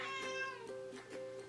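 A house cat, upset after a scuffle with another cat, gives a single drawn-out, wavering meow up close, tapering into fainter grumbling sounds.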